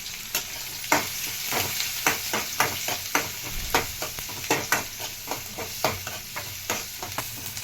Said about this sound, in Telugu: ఉల్లిపాయలు కలుపుకుందాం కలుపుకుందామండి